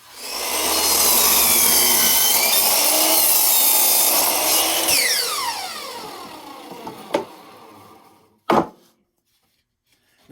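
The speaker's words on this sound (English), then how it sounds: "Now I've cut the plywood on the chop saw" A chop saw cuts through plywood with a loud, close whine and grinding bite, then spins down with a falling pitch, followed by a couple of sharp clunks and silence.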